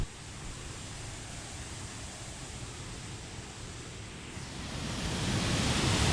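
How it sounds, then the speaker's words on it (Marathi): Continuous rushing water of a waterfall near Kolhapur roars steadily, growing louder toward the end, with wind buffeting mixed in and no talking. "तर असा हा धबधबा आहे आणि इथून सगळं पाणी वाहत जातं"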